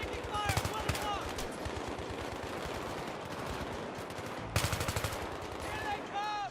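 Bursts of automatic rifle fire crackle in the Battlefield 3 video game, rapid rattling volleys repeating in short clusters over a dense, continuous battle din, with shouted voices under the shooting.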